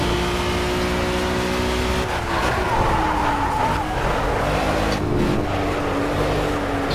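A historic GT4 BMW race car in the Project Cars racing game roars at high revs while its tyres squeal and skid through a corner, a loud, continuous engine drone with sliding tyre noise.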